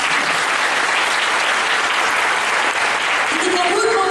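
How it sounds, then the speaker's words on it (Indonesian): Steady, dense applause from a church congregation at a Christian revival service in Makassar, loud and continuous throughout, with a voice rising faintly near the end. "Berikan dulu tepuk tangan."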